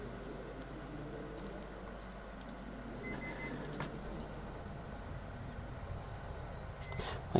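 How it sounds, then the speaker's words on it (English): A computer's front-panel temperature sensor gives short, high electronic beeps in a few quick bursts over a steady fan-like hiss. No one speaks. "So temperature sensor on the front of my computer. It beeps an awful lot."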